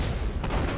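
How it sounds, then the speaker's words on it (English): An explosive barrel blows up in the Postal 2 video game, a loud, rumbling boom with crackling bursts that fills the short moment and stays heavy and close throughout. "Man, those barrels are really explosive."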